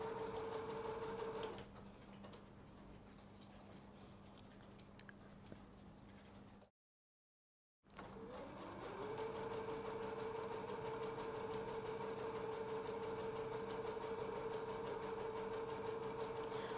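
Sewing machine stitching a zigzag seam on fabric leaves for a Chanel-style brooch flower, a steady continuous whir with a sustained motor hum, pausing briefly midway before running on alone.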